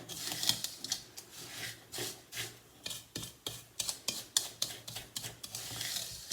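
A spoon works through a gooey mixture for Easter nests, making rhythmic scraping, squelching strokes that repeat close by at a brisk, uneven pace.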